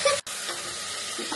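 Onion, garlic and tomato sizzle in a pan during a sauté, a steady close hiss broken by one brief dropout, with faint stirring scrapes and no talk.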